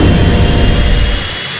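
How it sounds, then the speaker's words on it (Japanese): A Boeing 737's jet engines roar at takeoff in a flight simulator game, a loud, dense, steady rush of thrust that thins slightly toward the end, with no voices. "この飛行機は間もなく離陸いたします"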